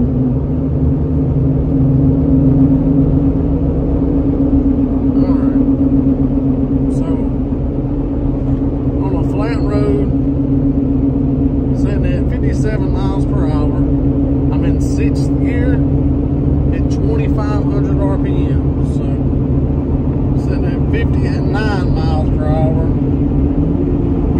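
A car cruising in fifth gear at about 3,500 RPM on a level road gives a steady, loud engine drone with road noise, while someone talks over it throughout.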